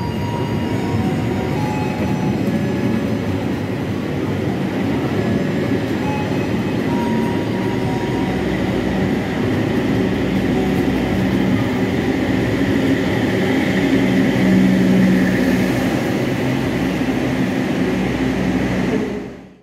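The Argo Semeru train pulls out of Purwokerto station with a continuous loud rumble and rolling wheel noise that holds steady for nearly twenty seconds before cutting off.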